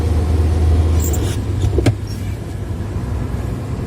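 A car drives along a road in Ukraine, its steady low engine and tyre rumble loud and close from inside the cabin, with a brief whirring clunk midway and no talking.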